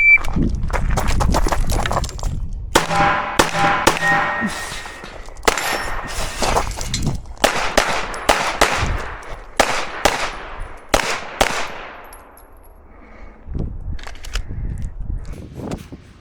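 Rapid gunshots ring out in bursts at a shooting range, with sharp metallic clangs from rounds hitting steel targets mixed among the shots; loud and close, with brief pauses between strings and no talk.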